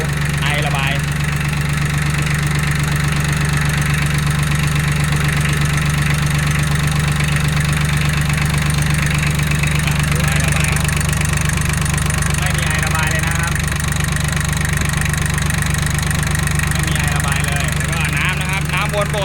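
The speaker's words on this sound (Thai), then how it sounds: "เดี๋ยวเราดูเครื่องยนต์กันอ่าพี่สตาร์ทโชว์หน่อย" A small tractor engine runs at a steady idle, a constant low chugging hum, while people talk over it.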